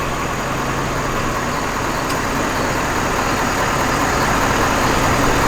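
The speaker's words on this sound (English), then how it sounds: "I just pull my phone out and I start the truck." A 2020 Ford pickup with the 6.7 Power Stroke diesel runs at a steady idle after a remote start, a loud, constant low rumble with no speech.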